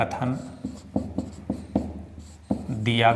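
Chalk or marker writes on a board during a maths class on matrices, short tapping and scratching strokes in a quick rhythm, with someone speaking over them.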